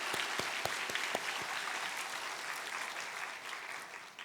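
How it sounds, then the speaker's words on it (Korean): A church congregation at a Sunday Baptist service gives sustained applause, a dense, even wash of many hands with a few sharp, distinct claps standing out near the start, fading slightly toward the end. "큰 감사와 영광의 박수를 올려드립니다"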